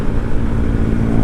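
Yamaha Xride 125 automatic scooter at full throttle, a loud continuous engine drone mixed with heavy wind rush, with no speech.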